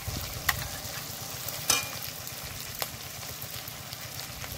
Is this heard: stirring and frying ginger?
yes